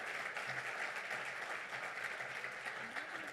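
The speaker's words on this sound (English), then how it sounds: "So round of applause for Jennifer Bacon" Steady applause fills a luncheon room for Jennifer Bacon at the Great Education Colorado event, a dense, even wash of many hands clapping throughout with a faint hint of voices underneath.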